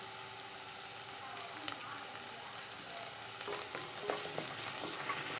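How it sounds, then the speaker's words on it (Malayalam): Chopped onions with ginger sizzle in hot oil in a pan for a Kerala-style fish curry, a steady close frying hiss with scraping stir clicks near the end and no talk. "സവോള അരിഞ്ഞിട്ട് കൊടുക്കാം. ഒന്ന് ഇളക്കി കൊടുക്കാം."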